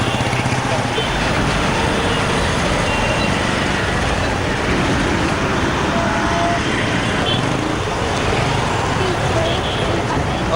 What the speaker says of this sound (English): Bangalore bus, not an easy place to be in at the moment, early morning traffic.